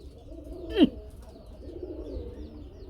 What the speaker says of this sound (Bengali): কি ডাক হ্যাঁ গোল্লা কবুতর বন্ধুরা চেতা ডাক